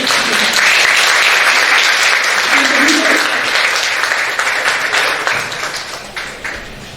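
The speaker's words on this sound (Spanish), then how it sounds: "Bueno, fuerte aplauso." An audience at a school anniversary event bursts into loud, dense applause that holds strong for several seconds and then gradually thins out and fades.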